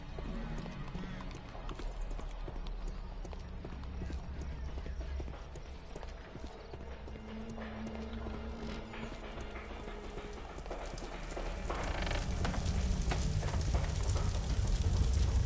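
In a Sherlock Holmes cartoon, hooves clip-clop steadily on a hard street with a busy, noisy background, growing louder and more hurried toward the end as the horse bolts.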